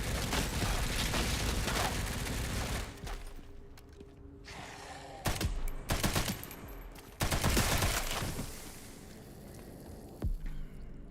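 Rapid bursts of gunfire from a video game, Resident Evil Requiem, loud and dense in the opening seconds, then separate sharp shots and short volleys broken by quieter gaps.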